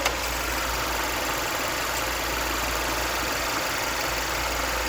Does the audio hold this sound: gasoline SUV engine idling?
yes